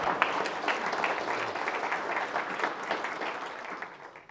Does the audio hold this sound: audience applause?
yes